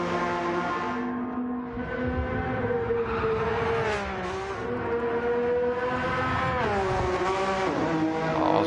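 Race cars at the Nürburgring 24 hour race, engines screaming as they pass while rear tyres squeal and scrub through a corner, loud sustained roar with rising and falling pitch, no talk.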